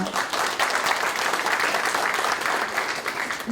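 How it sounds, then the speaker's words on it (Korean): Warm audience applause at a 2025 New Year press conference in Mungyeong welcoming Mayor Shin Hyun-guk, a sustained, fairly loud burst of many people clapping that holds steady for several seconds. "여러분 따뜻한 박수로 맞이해 주시기 바랍니다"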